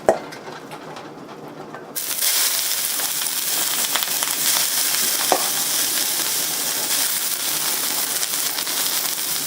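Cabbage dropped into a hot wok while cooking beef chow foon, bursting into a loud, continuous sizzle and crackle after a quieter start, with a few clanks of utensils.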